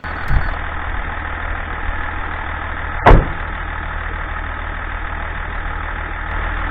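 A 2003 Range Rover HSE, L322 generation, idling with a steady low engine hum, broken once midway by a short sharp click or thump.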